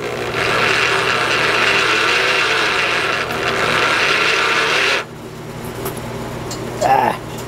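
A low-cost wire stripping machine runs under load, giving a loud grinding, rasping mechanical drone that cuts off abruptly partway through, followed by quieter handling noises and a brief squeak.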